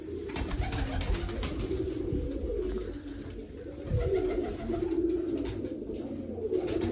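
A loft of kept pigeons coos close by, with low, overlapping calls rolling on continuously and no pauses.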